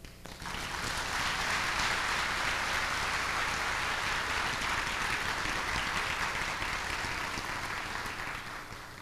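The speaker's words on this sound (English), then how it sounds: "I would like you to bring on with a round of applause Dr. ABENA BUSIA." An audience gives sustained, dense applause to welcome a poet onto the stage at a 1992 cultural event. It rises quickly and holds evenly for several seconds before easing slightly.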